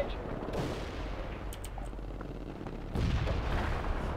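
Artillery fire in a World in Conflict battle, a rumbling mix of booms and shots with sharp crackles, then a heavier barrage that thickens and grows louder toward the end.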